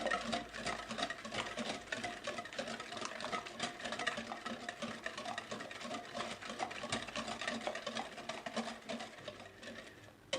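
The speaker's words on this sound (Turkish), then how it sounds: "Şöyle köpüklü bir kıvam alana kadar çırptım arkadaşlar." Eggs are whisked by hand for a revani semolina cake, a quick, continuous rhythmic clatter and patter of the whisk against the bowl, close and steady throughout, with no talking.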